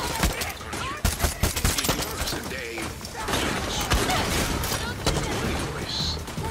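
Gunfire in the video game Far Cry 6, sharp repeated shots and bursts scattered through a busy mix of game effects, with voices talking over it.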